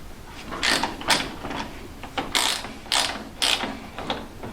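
Wiha gripper socket ratcheting on a bike caliper bolt, giving short bursts of fast metallic clicks in an uneven rhythm, close and fairly loud.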